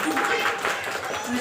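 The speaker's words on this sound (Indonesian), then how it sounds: "tepuk tangannya jangan malu-malu dong Bunda" Audience applause at a parenting talk on positive parent-child communication, a steady wash of clapping lasting the whole moment, fairly loud and close, with voices mixed in.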